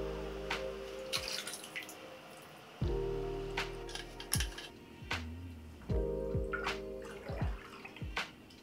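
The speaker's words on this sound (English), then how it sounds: "And then I just began pouring in the dye." Rit dye poured into hot water for dyeing a sofa cover, heard as repeated splashing and dripping liquid with bursts of trickling, close and moderately loud, with no talking.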